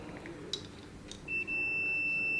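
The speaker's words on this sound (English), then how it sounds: "you can hear that beep and you can see it change" A multimeter sounds its continuity check while testing the wiring of a 150W Supercheap solar blanket panel: a clear, steady high-pitched beep that starts after a couple of faint ticks and holds to the end over a quiet background.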